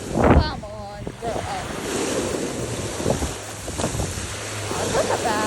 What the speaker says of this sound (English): Oh wait, look at these giant waves.